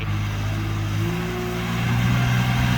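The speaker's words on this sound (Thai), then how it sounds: "เสียงเครื่องเสียงเครื่องท้ายเงียบครับ" A Kubota L3408DT tractor's diesel engine runs steadily up close with a low droning hum, pitch rising slightly as it revs near the end.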